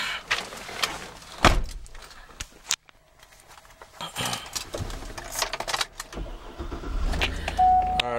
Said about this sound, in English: let's go ahead and get the vehicle started